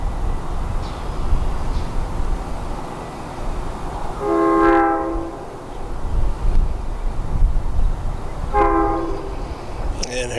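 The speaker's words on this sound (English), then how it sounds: "Here comes our Chicago-bound Metra train from Elgin, cab car first, on the Milwaukee West Line." A Chicago-bound Metra commuter train on the Milwaukee West Line blows its horn in two loud, held blasts over a steady rumble of the train approaching and passing, with wind noise throughout.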